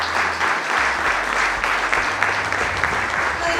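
An audience at a nonprofit launch event claps loudly and steadily throughout, a dense, continuous wash of applause with no break.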